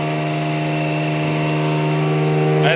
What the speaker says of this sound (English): And this is the motor